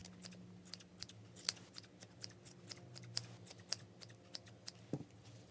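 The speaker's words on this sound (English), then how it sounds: "Now I'm going to go ahead and trim it into that dome shape that we're used to." Sharp scissors snipping yarn to trim a pom-pom into a dome, a quick irregular series of crisp close cuts with short pauses between, no talking.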